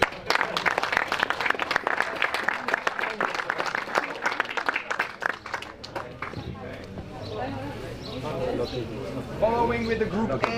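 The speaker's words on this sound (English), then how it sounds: "one last applause for Group G" A crowd applauds at a kart racing championship podium ceremony, steady dense clapping at first, then thinning as an announcer speaks over it.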